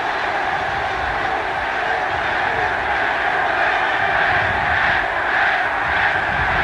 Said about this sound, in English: And again the crowd comes alight